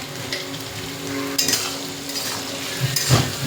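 Vegetables and prawns fry in a pan, a steady close sizzle broken by a few scraping stirs and light clinks of a utensil against the pan, with no talking.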